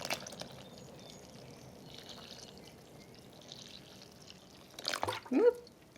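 750 grams of water being poured into flour for sourdough dough, soft trickling and dripping that is faint at first, then a short louder splashing pour near the end.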